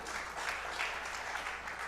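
Audience applause after a live jazz trio song at an MJC Mondays show, a short, soft, steady patter of clapping from a small room.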